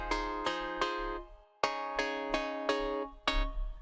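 A Sylenth1 lead synth preset from a bundle plays bright, plucky stabbed notes in a bouncy rhythm of about eight hits with quick decays, clear and alone.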